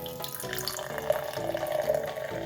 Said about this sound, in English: So now I'm pouring it.